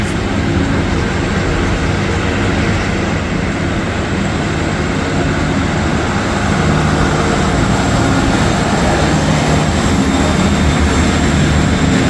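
A Transport for Wales train on the Manchester to Milford Haven service pulls out of Crewe Station, a loud steady low rumble and engine drone filling the platform throughout without a break.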